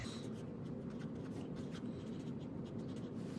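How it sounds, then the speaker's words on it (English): Steady, close scratching of a drawing tool moving across paper as a name is written onto a rainbow self-portrait craft, continuous and unbroken for the whole stretch with no voices. "somewhere around your self-portrait, is write your name, and write it very,"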